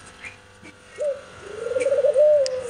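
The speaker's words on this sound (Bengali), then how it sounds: "এ দেখেন কবুতরগুলো কত সুন্দর।" Pigeons at a monument site cooing nearby, a soft low rolling coo that rises and swells into a pulsing, throaty call over faint background ambience.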